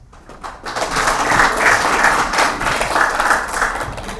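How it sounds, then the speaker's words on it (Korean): Applause in a conference hall for the Korean Association for Local Autonomy president's opening address at an academic summer conference, starting after a brief quiet moment and holding as a steady, moderately loud crowd clapping. "큰 박수 부탁드리겠습니다."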